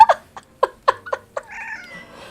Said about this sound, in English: I don't know if you heard that meow